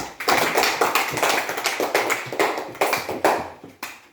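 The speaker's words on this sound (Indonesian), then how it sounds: "Kita berikan tepuk tangan kepada Adia." Classroom of students during an academic supervision session clap for a fellow student, dense steady applause from many hands, close and loud, fading slightly toward the end with no talking.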